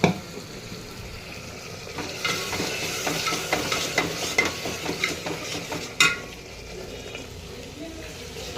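Hot oil sizzles and spatters as a tempering is poured over a Khandeshi village-style chicken curry with black masala, with stirring and clinking in the pot and one sharp burst near the end.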